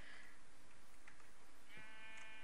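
Sheep bleating in the video game Minecraft, two or three short wavering bleats at moderate volume, the last one longer and tonal, over a quiet hiss with no talking.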